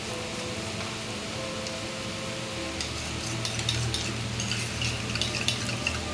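Taro frying in a pan for a Bengali taro and prawn dish, a steady soft sizzle and crackle running throughout, with faint scraping and clicking of a utensil nearby and a low hum beneath.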